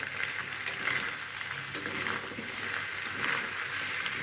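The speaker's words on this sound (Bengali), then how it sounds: "আর একটু নুন দিয়ে নিলাম এর মধ্যে, দিয়ে নাড়িয়ে নিচ্ছি" Salted pasta stirred around a hot pan, with a steady close sizzle and soft scraping strokes of the spoon throughout; no one speaks.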